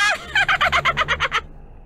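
A bird in a Nancy Drew adventure game, Curse of Blackmoor Manor, lets out a loud rapid gobbling call of about ten quick pulses, then falls silent.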